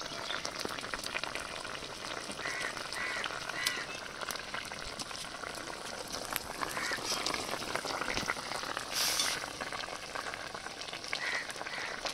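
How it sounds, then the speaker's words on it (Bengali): A light fish curry made with fresh pond fish and thankuni leaves simmers in a pan, giving a soft, continuous bubbling and faint sizzle that stays quiet and steady throughout. "এবার থানকুনি পাতা দিয়ে আর 1 মিনিট ফুটিয়ে নামিয়ে নেব"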